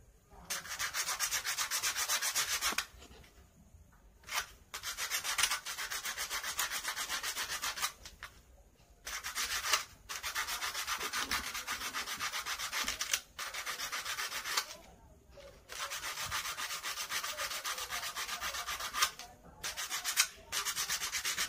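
Metal being rubbed clean in preparation for soldering copper to iron: close, scratchy sanding strokes in long bursts, separated by brief pauses.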